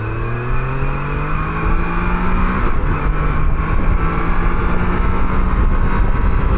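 A Can-Am Canyon Redrock three-wheeled motorcycle accelerates at full throttle, its engine note climbing steadily through the gears with a brief shift dip, loud and close amid strong wind rush.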